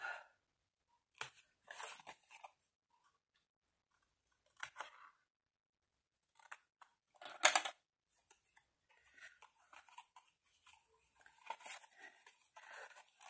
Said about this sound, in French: Vous épointez un petit peu là les petits onglets de collage qui sont eux parfaitement carrés.